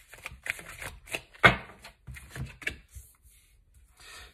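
Tarot cards are shuffled by hand in quick papery riffles and soft slaps, close and fairly loud, with one sharp snap near the middle and quieter rustling toward the end.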